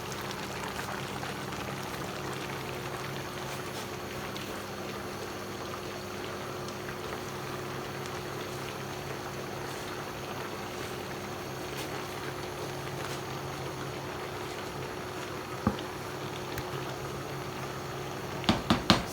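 Atama soup with spinach and egusi bubbling in a pot, a steady, even simmering hiss that holds for the whole stretch, with a few faint clicks near the end.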